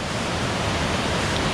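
Water cascading through a narrow opening in a log-choked canyon on Vancouver Island, a loud, close, continuous rushing roar with no voices.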